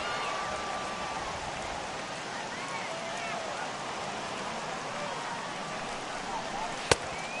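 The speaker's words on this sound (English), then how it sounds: "It's raining cats and dogs out there." Steady rain falling on a ballpark in a baseball video game, a continuous hiss throughout with a sharp brief crack near the end, while a commentator talks over it.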